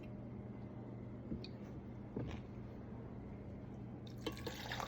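Mango juice being poured into a blender for a smoothie gives a quiet, steady liquid trickle with a few faint splashes and drips, close by and with no voices.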